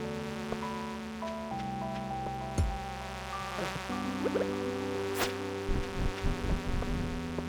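Insect buzzing from the Stardew Valley video game, a droning whine that shifts pitch in steps and hovers steadily throughout, with short bursts and chirps of game sound effects near the end.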